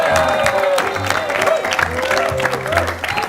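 Scattered clapping from a small group comes through under lively chatter and laughter, with people talking over it the whole time and the claps rising and fading irregularly.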